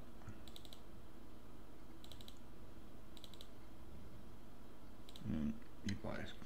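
Small clusters of quick clicks from computer keyboard shortcuts pressed while processing astrophotography images, faint and spaced a second or so apart over steady hiss, with a voice speaking near the end.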